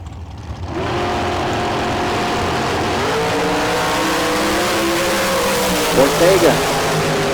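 A drag race car launches and accelerates hard down a Las Vegas strip during a bracket race time run. It rises from near silence into a loud, sustained engine roar, with a brief flutter of shifting or tire noise near the end.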